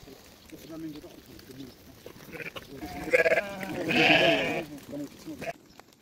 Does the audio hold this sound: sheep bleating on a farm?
yes